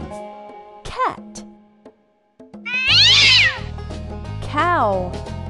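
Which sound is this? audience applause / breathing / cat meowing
cat meowing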